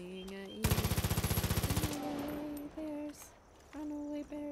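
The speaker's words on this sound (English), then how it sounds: "Away from the bullets flying at you." Far Cry 5 gunfire: a rapid automatic burst of roughly fifteen sharp, loud shots lasting just over a second, followed by quieter game tones and electronic sounds.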